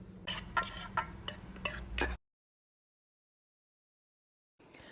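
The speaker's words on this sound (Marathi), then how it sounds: "आता मगाशी जो कांदा, टोमॅटो, खोबरं काढून घेतलेलं होतं ते सगळं ह्याच्यामध्ये मिक्स करायचं आहे" Soaked poha being mixed by hand with onion, tomato and grated coconut, a few rhythmic squelching, rustling strokes in close succession, then silence.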